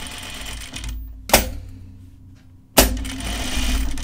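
A sewing machine stitching a tunic runs in steady mechanical bursts, stopping abruptly twice with sharp clunks as it halts and restarts, then running continuously again, close and clear with no talking.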